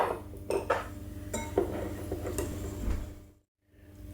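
A spoon scrapes and clinks against a bowl while a gelatin preparation is stirred, making steady close kitchen sounds with small taps, then a short pause.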